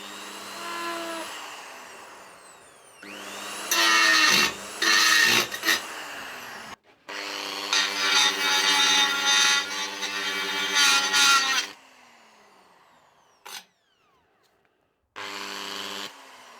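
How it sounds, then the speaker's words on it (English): A rotary cutter wearing candle wax bites into an aluminium VW alloy sump in several loud, close bursts, each with a high whining grind between quieter pauses where the tool spins down. "When you're cutting aluminium, a little bit of candle wax on the cutter helps to stop it from blocking up"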